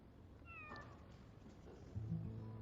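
A cat meows softly a couple of times, close and faint, over a low background hum in an indoor scene.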